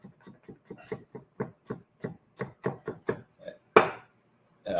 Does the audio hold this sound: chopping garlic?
yes